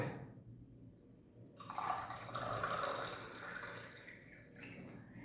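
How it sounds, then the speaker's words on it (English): Water is poured from a container into sand, giving a faint, soft trickling splash that swells and then tapers off in a quiet room. "Now adding a water into it."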